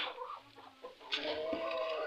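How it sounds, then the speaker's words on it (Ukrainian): A broody hen clucking up close, a few soft low clucks followed by a louder squawk, with quiet farmyard background. "Качка і ще одна квочка."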